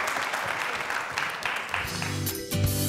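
Studio audience applause on a Turkish television contest show, a dense burst of clapping at moderate distance that swells toward the end with faint voices mixed in.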